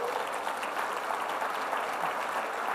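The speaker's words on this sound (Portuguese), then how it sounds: "Vamos aplaudir o Senhor." A congregation in a church service claps together in praise, a steady, moderately loud wash of many hands applauding continuously without pause.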